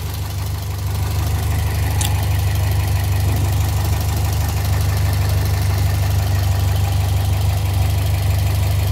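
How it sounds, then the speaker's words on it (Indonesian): Modified second-generation Toyota Vios idling with a smooth, steady low hum, heard close and alone. A single short faint tick sounds near the start. "mesinnya halus ya, nyaris tak bersuara"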